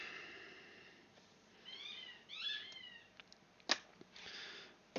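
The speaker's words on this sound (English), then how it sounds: "I apologise for the dog toy squeaking." A dog toy squeaks in a quiet indoor room, letting out a few faint, whiny squeals that bend in pitch, clustered in quick succession, followed by a couple of soft knocks.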